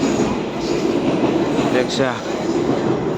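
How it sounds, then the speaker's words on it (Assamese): A metro train runs past at Anand Vihar with a steady, continuous rumble and rail noise that fills the whole stretch. A person speaks briefly over it. "মেট্ৰো যাই আছে কই আমাৰ সুপারভাইজার আই নাই দেখোন"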